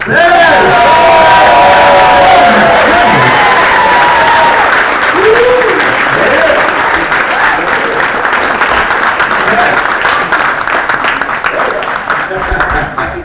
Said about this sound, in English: Give a big, big, big round of applause for Leatherface himself